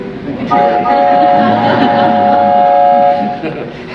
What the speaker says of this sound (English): Would you like to hear a toy train?